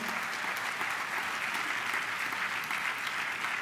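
An indoor audience at a gathering of young municipal officials gives sustained, even applause, a dense patter of many hands clapping with no voices over it.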